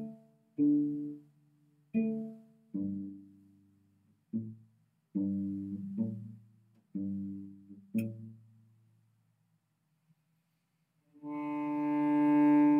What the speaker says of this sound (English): It's pizzicato.